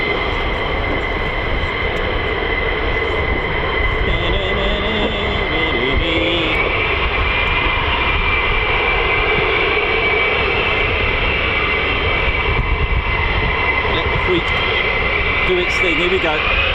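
F-15 or F-35 fighter jets at RAF Lakenheath, heard as a loud continuous engine roar and whine with a steady tone holding throughout, with a few faint radio crackles over it.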